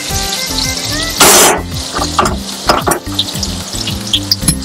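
Rice and cashews fry loudly in a pot. A sharp burst of hissing comes as something is added, then a steady crackling sizzle with scraping and knocks from stirring. A low mechanical hum runs underneath throughout.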